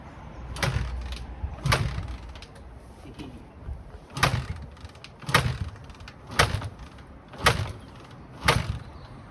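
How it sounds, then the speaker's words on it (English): A Honda XL185 classic motorcycle with a dry carburettor is kicked over repeatedly, about seven separate mechanical kick strokes in an uneven rhythm, each a short clunk and whir, fairly near, without the engine catching. "Probably take a few kicks because obviously the carb was dry."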